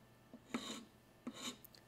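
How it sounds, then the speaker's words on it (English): A 230 grit buff stick sands the bottom of a ring being resized, giving two quiet, short rasping strokes close by with a pause between them. "Now we're gonna go with buff stick. 230 grit. To just dress the bottom a little bit better."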